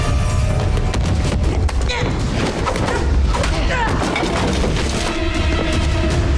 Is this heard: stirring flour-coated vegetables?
no